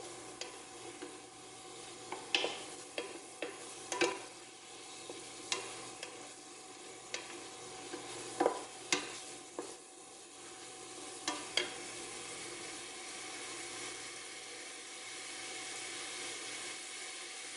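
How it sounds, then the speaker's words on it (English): A spoon scraping and stirring food in a pan while cooking noodle mac and alfredo, with a string of sharp scrapes and clinks at an uneven rhythm over a soft sizzle, close by, with no talking. "Stir that for about a minute, and we'll get that all nice and mixed."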